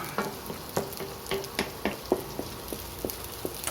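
Bagnet, crispy fried pork, sizzles in a pan with garlic and onion while being stirred, a low frying hiss broken by repeated spatula scrapes and taps at an uneven pace.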